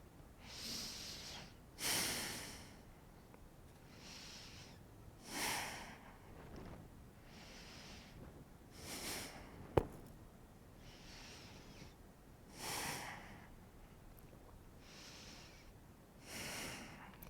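Slow, deep breaths during a yoga plank in a grounding flow class, about ten audible inhales and exhales spaced evenly, close and soft with no talking.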